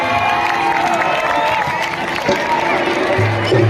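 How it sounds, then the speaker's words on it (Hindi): An outdoor Ramlila audience in Sector 19, Panchkula applauds the performers, steady clapping mixed with crowd cheering and children's shouts, with voices talking over the noise throughout. "जोरदार तालियां सभी कलाकारों के लिए।"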